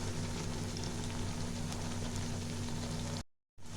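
Malpua batter fries in hot oil with a steady, dense sizzle and crackle, then cuts out abruptly near the end.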